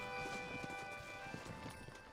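Horse hooves clip-clop steadily in the Western open-world game Red Dead Redemption as the horse trots along, with a game soundtrack running underneath throughout.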